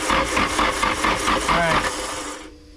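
A Nissan SR20 engine being cranked over by its starter, a rapid, steady whirring churn that runs close and loud for about two and a half seconds, then cuts off.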